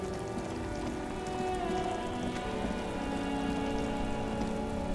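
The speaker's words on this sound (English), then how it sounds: "Stuck in the rain in a traffic jam, man." Rain in the video game Disco Elysium, falling steadily as a dense, even patter and hiss, constant and moderately loud with no voices.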